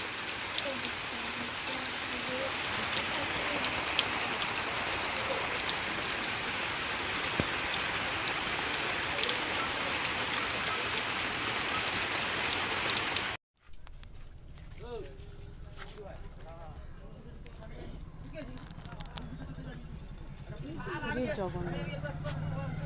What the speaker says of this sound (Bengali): দেখো এত বৃষ্টি হচ্ছে।